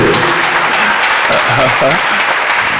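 A church congregation applauding and cheering in acclamation of a Bible reading, a loud, steady wash of clapping with voices calling out across the crowd.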